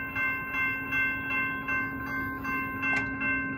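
A Union Pacific maintenance-of-way train rolls toward a grade crossing near Benson, Arizona, with steady rumble and a sustained tonal drone, likely crossing bells or horn, holding level throughout; no voices.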